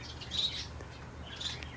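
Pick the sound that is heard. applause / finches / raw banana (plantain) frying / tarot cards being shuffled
finches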